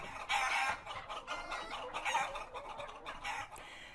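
Hens cluck and squawk in a close, busy chorus, overlapping rhythmic calls rising and falling with no pause, loud and near, with no voices.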